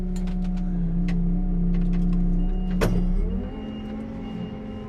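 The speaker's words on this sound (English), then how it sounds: "So we'll jump in the truck and go and do that now." A farm truck engine runs with a steady low hum, a sharp click or clunk cuts in, and the engine note then drops and settles lower.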